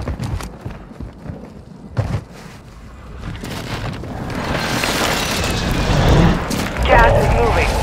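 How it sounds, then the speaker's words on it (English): Precision airstrike explosions in Call of Duty: Modern Warfare II, scattered thuds giving way to a swelling roar of blasts and rumble that builds toward the end, loud and close, with brief speech early on. "Hostile precision airstrike."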